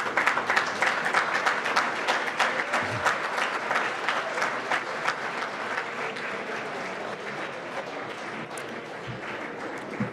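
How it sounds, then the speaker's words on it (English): Sustained applause from a large audience at a gala keynote address, dense and even throughout, with a few sharper claps standing out near the start and no talking over it. "from the clapping"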